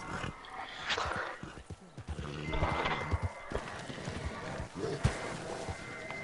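Hooves clip-clop and a horse whinnies in Red Dead Redemption 2, the animal balking and refusing to be mounted, with a couple of louder neighs over steady game ambience and no talk.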